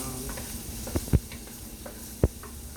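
Vegetables stirred in a hot pan for pasta primavera give a soft, steady sizzle with a few sharp scrapes and knocks of the utensil, close and quiet.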